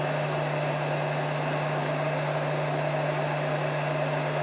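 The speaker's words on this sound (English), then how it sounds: "I'm gonna apply heat evenly all around it." A heat gun blows hot air onto a heavy-duty battery cable, giving a constant, close, loud airflow roar with a steady motor hum and no talking.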